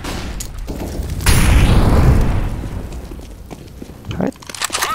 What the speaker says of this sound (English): Throw in a flashbang!